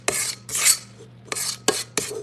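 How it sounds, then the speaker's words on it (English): A spatula scrapes around a bowl of cookie dough in five rough rasping strokes with short pauses between them, close and fairly loud. "you gotta scrape the bowl"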